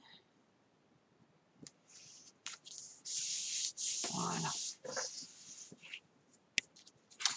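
Decorative paper being rubbed and smoothed down onto a small paper tag, giving soft close-up scraping and rubbing strokes that come in short bursts with quiet gaps, plus a brief spoken word.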